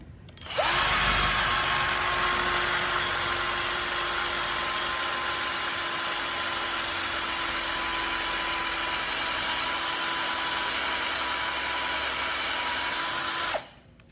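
An inexpensive hand drill bought online runs with a steady, high-pitched whine for about thirteen seconds, close and loud, then stops abruptly. No voices are heard.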